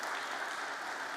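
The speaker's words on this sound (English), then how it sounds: "Can we please just welcome him with a warm round of applause?" Conference audience applause in Namibia, a brief, fairly faint wash of steady clapping from a crowd, with no voices over it.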